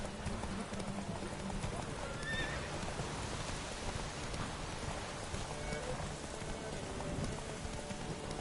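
Horses clip-clop at a gallop through a steady rain-like wash during a race in a Witcher video game, with occasional neighs and some voices over the continuous hoofbeats.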